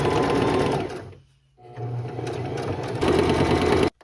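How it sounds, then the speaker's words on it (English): A sewing machine runs a straight stitch along a jeans hem with polyester thread, whirring steadily in two bursts separated by a short pause, close and fairly loud. "we're just doing a straight stitch"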